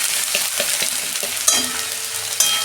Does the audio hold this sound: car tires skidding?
no